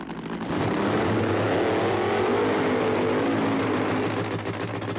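Loud, steady roar of a drag racing car engine at a drag strip, one sustained high-powered run building in from the start and holding at full volume to the end, with no talk over it.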